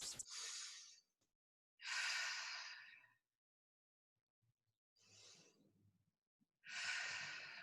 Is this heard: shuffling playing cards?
no